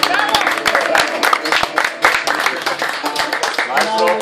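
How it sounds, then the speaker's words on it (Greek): Audience applause for children at a live concert in Athens, a dense patter of many hands clapping steadily throughout, with crowd noise underneath. "Ένα χειροκρότημα για τα παιδιά μας"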